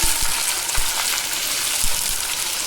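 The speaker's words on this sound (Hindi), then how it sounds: "गोश्त को भी हम अच्छी तरीके से भूनेंगे।" Beef frying in a pan with golden browned onions, a loud close hiss of sizzling oil with a few low thuds of stirring.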